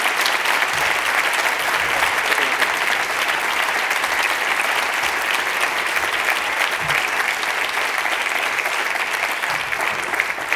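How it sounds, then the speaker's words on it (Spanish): A seated audience gives a lecture speaker a long, steady round of applause, thick even clapping from many hands filling the hall without a break, loud and sustained throughout. "el aplauso es para usted"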